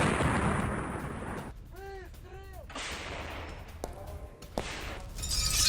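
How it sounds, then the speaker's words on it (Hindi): A 152 mm howitzer fires in the Russia-Ukraine war. Several loud, booming blasts are separated by quieter gaps, with distant rumbling between the shots. "खासतौर पे 152 mm हॉविट्जर तोपों से हमले किए गए हैं।"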